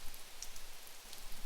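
Soft, steady rain falls in an even, gentle hiss of fine drops, continuous and fairly faint with no voices.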